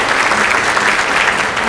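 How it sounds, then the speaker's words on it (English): Audience applause at an economic forecast event, a dense, steady wash of clapping hands from a sizable crowd, sustained and fairly loud throughout with no break. "So let's give ourselves a round of applause"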